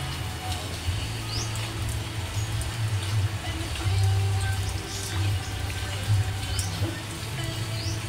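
Steady rain patters down around a small store, a dense, even hiss with scattered drips and a low rumble underneath, continuous and moderately loud throughout.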